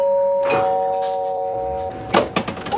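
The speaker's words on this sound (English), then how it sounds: "The doorbell rang" Doorbell ringing with clear sustained chime tones near the start, followed by door and handling noises toward the end.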